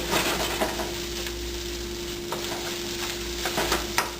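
Rice being stirred and fried in a pan, a steady close sizzle broken by scraping stirs and occasional sharper clinks of the utensil, with no talking.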